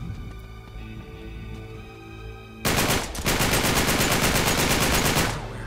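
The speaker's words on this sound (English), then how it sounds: "now I got me an automatic rifle" Sustained automatic rifle fire in the Uncharted 3 video game erupts abruptly after a quieter stretch, a dense rapid burst of shots lasting several seconds, loud and continuous.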